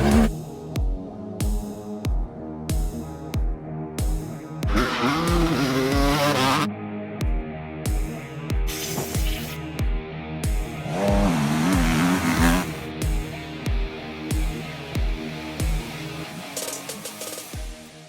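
A 2001 Honda CR250 two-stroke dirt bike with a big wheel conversion, engine loud and close, popping and crackling in rhythmic bursts with repeated revs climbing and falling, no talk.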